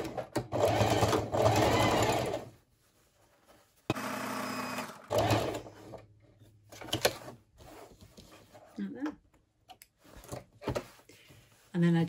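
A sewing machine stitches down a folded fabric edge in short, close bursts of rapid whirring, with pauses and handling noises between runs and a voice speaking at times.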